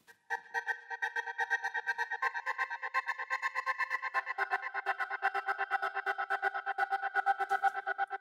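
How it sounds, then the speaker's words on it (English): A bright choir-like synth pad chopped into fast rhythmic pulses by a gate, stuttering steadily and evenly for several seconds. "It's this gated choir sound."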